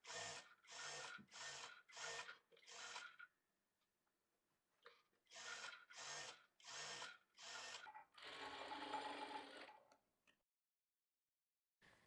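Sewing machine stitching the lining of a horseshoe-neck blouse, running in several short, close bursts separated by brief pauses, then one longer steady run near the end, with no talk.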